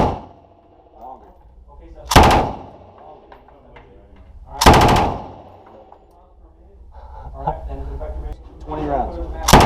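Machine guns firing on a shooting range, heard as two loud, sharp bursts of automatic fire a few seconds apart, with people talking in between and around them.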